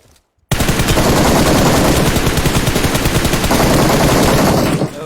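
Rapid automatic gunfire in a video game bursts in after a brief quiet moment, a loud, dense continuous stream of shots that runs nearly the whole time before cutting off.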